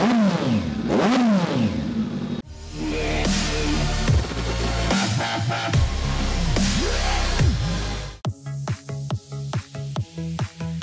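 A used motorcycle, one of a batch of small sport bikes such as a Kawasaki, Yamaha R15 V3, Suzuki GSX 150 or Honda CBR150, starts and revs hard up close, with rising and falling engine whines and then rapid throttle blips.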